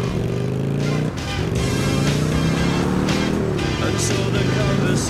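Motorcycle engine in GTA Vice City revving steadily and loud throughout, pitch rising and shifting as gears change, with a brief dip near the start and game sounds layered on top.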